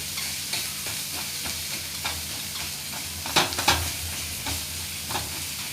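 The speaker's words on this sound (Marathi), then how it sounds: "व्यवस्थित परतून घ्यायचं आहे" Onion and tomato masala for egg bhurji fries over a low flame, with a steady sizzle and repeated spatula scrapes and stirs, a few louder clatters near the middle, and no talking.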